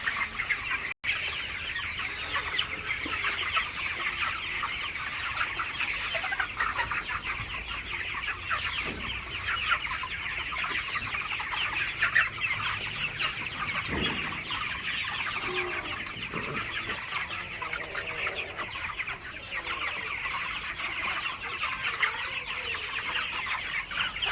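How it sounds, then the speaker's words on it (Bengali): A shed of about eight hundred broiler chickens clucks while drinking water, a dense, steady murmur of many birds throughout with occasional louder individual calls. "দেখুন কি সুন্দরভাবে পানি খাইতেছে মুরগিগুলা"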